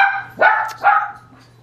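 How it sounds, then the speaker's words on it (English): A dog barks indoors at home, two sharp barks in quick succession close by, fading into a soft whine, with no talking. "Sorry for the dog."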